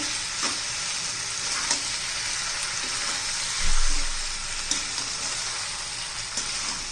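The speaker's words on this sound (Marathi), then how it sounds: "आता आपण पास्ता घालून घेऊया छान असा पास्ता आता हलवून घेऊया" Pasta being stirred in a hot pan for a homemade masala pasta: a steady, close frying sizzle with occasional spoon scrapes and one brief low thump midway, no talking.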